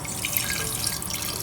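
Water is poured onto jaggery in a bronze pot, a steady close splashing trickle lasting briefly.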